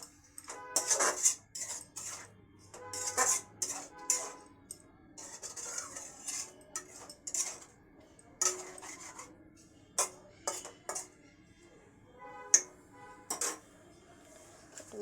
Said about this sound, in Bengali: সামান্য একটু জল দিয়ে দিয়ে মশলাটা কষিয়ে নিতে হবে